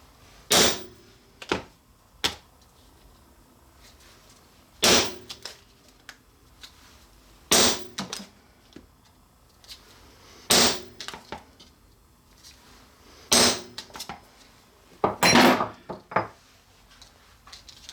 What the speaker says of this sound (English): So I'm going to go across the cardboard and make several 5/8 of an inch diameter holes.